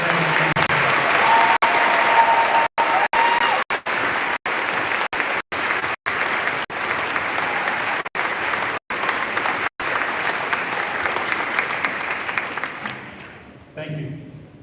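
Applause at a commencement ceremony, a large audience clapping loudly and steadily for many seconds with a few brief dropouts, then fading away at the end.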